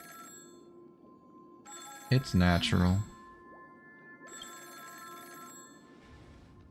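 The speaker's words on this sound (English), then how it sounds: "Pick up the phone!" A telephone rings in the video game Honkai: Star Rail with repeated electronic tones that start and stop, and a voice speaks briefly over the middle of the ringing.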